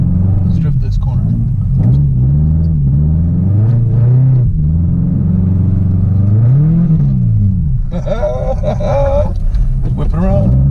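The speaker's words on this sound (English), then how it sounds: "Let's drift this corner." Subaru being drifted around a snowy corner, its engine droning and rising and falling in pitch with repeated revs, loud and close, under a person talking.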